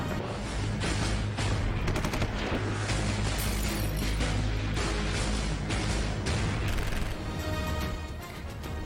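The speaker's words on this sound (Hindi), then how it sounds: "सरहदी जारी बैरूनी सेक्टर में फायरिंग और गोलाबारी।" Heavy gunfire and shelling along a border sector: dense, loud, continuous bursts of rapid shots mixed with booming blasts and crashes, relentless for the whole stretch with no voices.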